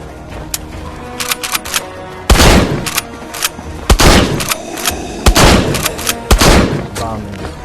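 Gunfire from a weapon in the VR survival game Survival Nation, played on a Pico 4: several loud, sharp shots at uneven intervals, with smaller clicks and clatter between them.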